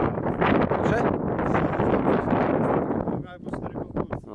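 Wind buffeting the microphone outdoors at a pigeon-racing club's bird arrival in Toruń, a loud, continuous low roaring rumble that gusts throughout, with people speaking faintly underneath toward the end.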